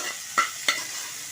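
Cooked dal goes into hot oil tempered with cumin and curry leaves, giving a short, soft hiss with two quick scraping stirs, up close.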